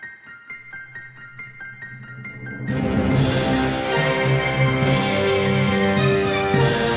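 Orchestral music with a plucked, bell-like melody that swells into a full, loud ensemble of brass, strings and booming percussion, bold and adventurous.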